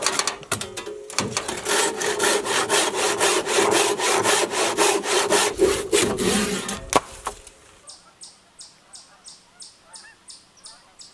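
A handsaw rasps through a wooden cabin window frame in steady, loud back-and-forth strokes for about seven seconds, then stops; faint rhythmic scraping or rubbing continues afterward in a quieter setting.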